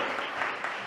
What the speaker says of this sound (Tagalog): Kulang na palakpak yan